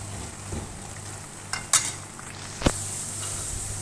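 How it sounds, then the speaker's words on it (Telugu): Carrot pieces sizzle steadily in a pan for chicken biryani, a soft continuous fry with a few brief clinks of a spoon stirring against the pan; no talk. "క్యారెట్ కూడా ఒక క్యారెట్ చిన్న ముక్కల కింద కట్ చేసుకుని ఇవి కూడా ఫ్రై చేసుకుందాం"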